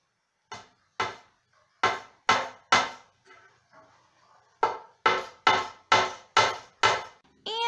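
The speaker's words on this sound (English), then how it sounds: "while you're hammering so you don't smash the hammer onto your fingers" A hammer or hatchet striking wood in a home setting, sharp repeated blows up close: five evenly spaced hits, a short pause with faint handling noise, then a faster run of six or seven strikes, with no talking.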